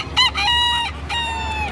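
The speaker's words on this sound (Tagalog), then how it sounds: "Ang manok oh." A rooster at a Lipa City, Batangas poultry market lets out two loud, close crowing calls, each sustained with a sharp start and a break between them.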